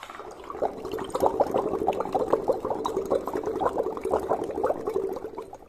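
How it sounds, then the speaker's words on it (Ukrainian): A child blows through a drinking straw into a glass of water, making continuous soft bubbling and gurgling for several seconds, fairly quiet and close, with no talking. "Візьмемо кожен трубочку і дмухнемо крізь неї у склянку з водою."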